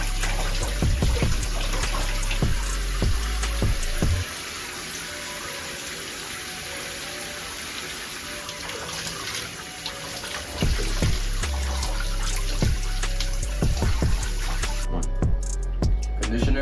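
Water runs steadily while someone rinses curly hair, a constant close splashing hiss with heavier spatters and drips at the start and end, and a quieter smoother stretch in the middle.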